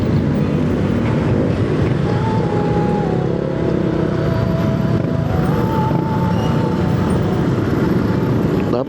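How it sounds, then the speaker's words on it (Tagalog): Heavy road traffic as dense engine noise: a loud, continuous rumble of motors with a faint tone drifting in and out, no clear gaps. "Napakalupit ng traffic dito."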